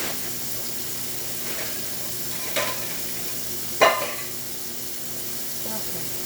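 Water streams over chickpeas being rinsed, a steady even hiss from a tap that holds throughout, broken by a couple of small knocks.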